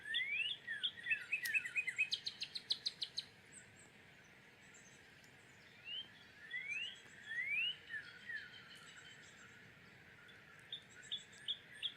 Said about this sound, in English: So here's the Cardinals. Let's bird watch together.